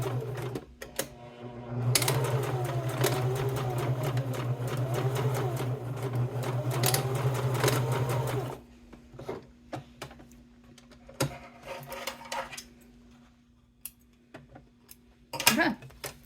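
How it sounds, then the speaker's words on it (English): A sewing machine runs steadily for several seconds, stitching across the bottom edge of a top pocket on a crossbody bag, then stops and leaves quieter clicks and handling noises. "to attach our top pocket, we're just going to sew right across this bottom edge"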